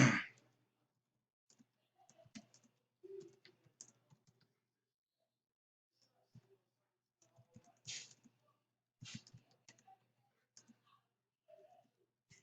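A computer keyboard is typed on while an email is composed, with sparse, quiet key clicks coming in short irregular bursts separated by near silence.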